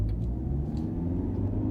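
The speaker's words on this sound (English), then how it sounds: "The only thing you really hear are the tires." Tires of a Toyota Camry hybrid accelerating in sport mode produce a continuous low rumbling road roar, steady and fairly loud throughout the short stretch.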